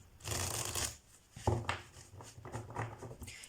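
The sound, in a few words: shuffling tarot cards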